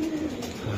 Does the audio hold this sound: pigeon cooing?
yes